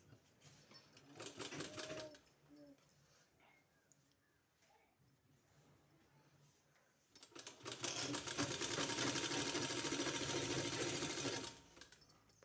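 Sewing machine stitching along a folded margin on a dupatta, a steady whirring run in two bursts, a short one early and a longer loud one later, with quiet handling between.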